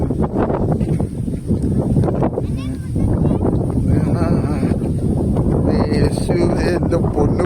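Strong wind at Parunthumpara viewpoint in Idukki batters the microphone with a continuous loud roar and buffeting, while people talk beneath it throughout.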